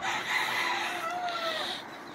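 A rooster crows in a long drawn-out call, fairly close, over a steady background of farmyard noise.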